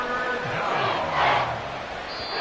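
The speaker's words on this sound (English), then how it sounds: "This crowd turning up the decibel level" Stadium crowd roar in a Madden 24 football video game, a broad sustained wash of cheering that swells briefly mid-clip, heard under a play-by-play commentator's voice.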